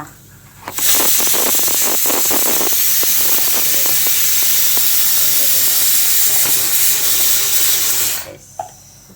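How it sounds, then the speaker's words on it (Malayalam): Pressure cooker on a home stove venting a loud, steady steam hiss for about seven seconds, starting and stopping abruptly, with faint clicks and kitchen noise underneath. "കുക്കറിൻ്റെ സൗണ്ട് ഒരു പുറത്ത്"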